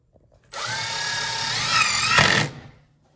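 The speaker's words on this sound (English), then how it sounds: "now I'm just going to tighten up the rest of the screws" A power drill drives screws into a door jamb frame, one short whirring burst of about two seconds that rises slightly in pitch before cutting off, close and fairly loud.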